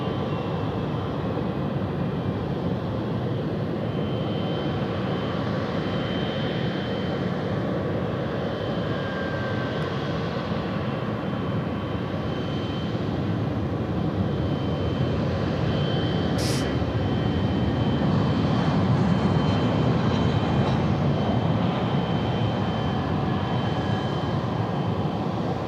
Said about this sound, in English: It is the Emirates 777 coming now into the 80s bays